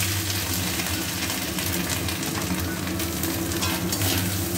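About a cup of freshly grated coconut frying in a pan for a vegetarian banana-flower ghonto gives a steady, close sizzle and crackle that runs unbroken from start to finish, with no talking.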